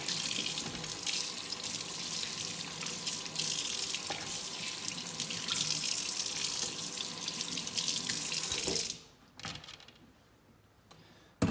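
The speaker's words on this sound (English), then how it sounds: "So I wash my squash off. So I'm going to wash it out right quick." A kitchen tap runs steadily into a sink while squash is washed under it, a close, continuous splashing rush that cuts off sharply near the end, leaving a quiet moment and a small clunk.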